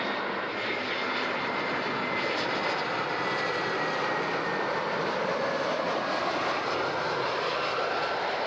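Airliner on final approach to runway 14 at Zurich airport, a steady loud engine roar with broadband rushing that holds throughout without a break.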